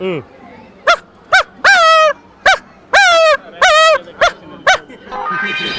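A person imitates a pet dog with a quick series of short, high yapping barks, some doubled, loud and close, ending with a rustle.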